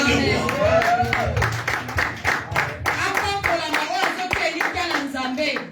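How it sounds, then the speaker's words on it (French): A church congregation claps loudly in a fast, steady rhythm to acclaim the King of Kings, sharp close hand claps running throughout with voices calling and singing over them. "Est-ce qu'on peut acclamer le roi de roi?"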